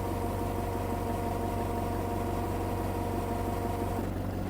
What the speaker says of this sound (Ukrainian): Продемонструю вам ще фрагмент відео зі звуком роботи двигуна.